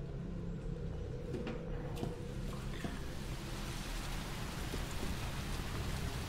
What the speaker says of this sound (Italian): Poi l'effetto della pioggia che c'è qua è bellissimo